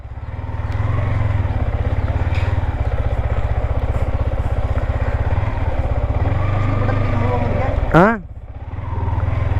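A TVS Apache RTR motorcycle engine idling loud and close with a steady rapid thump, then a quick rising rev that cuts off and drops away, people talking over it.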